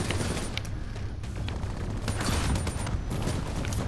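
Rapid bursts of automatic gunfire rattle through a shooter video game battle, with dense overlapping shots at a moderate distance and no voices.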